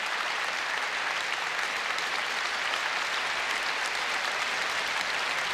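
Sustained applause from an opera audience in Sydney after Norma Act 2, a dense continuous wash of clapping at steady loudness with no break or voices.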